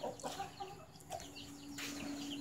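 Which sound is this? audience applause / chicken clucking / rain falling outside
chicken clucking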